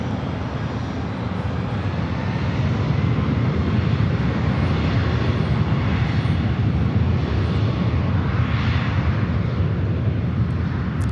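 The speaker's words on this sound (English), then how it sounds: "It's Alaska Airlines 1127 taking off to Portland on the MAX 9." An Alaska Airlines Boeing 737 MAX 9 taking off at LAX, a loud continuous broadband jet roar holding steady and dense for the whole stretch, heard alone without voices.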